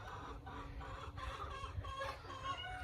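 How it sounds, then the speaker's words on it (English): Chickens cluck softly at a distance on a homestead, a rooster's low calls repeating over a steady background hum. "We're going to talk about the importance of roosters."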